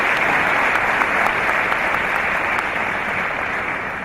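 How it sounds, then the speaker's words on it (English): Sustained applause from a conference audience welcoming a woman on stage at a management conclave, dense and steady throughout, loud and unbroken with no voices over it. "Please give her a huge round of applause"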